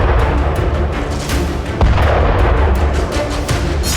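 War footage of a Russian attack on Ukrainian soldiers hiding along a roadside near Sudzha, with continuous heavy booms and rumbling blasts that overlap into a dense, loud barrage with no pauses.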